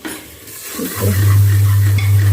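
A sudden loud sizzle as spices hit hot oil for tempering dal, rising after a quiet second and sustaining steadily with a low hum underneath.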